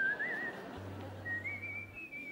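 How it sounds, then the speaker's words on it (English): A person whistles loosely without a tune, a thin wavering pitch that rises and falls over two seconds, fairly quiet with a low hum underneath and no speech. "The louder you whistle, the further the boogeymen stayed away."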